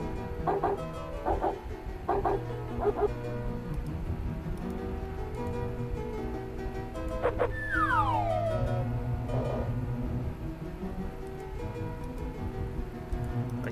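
A dog in the 1993 adventure game Return to Zork barks in short bursts and lets out a high falling whimper midway, over a steady game backdrop.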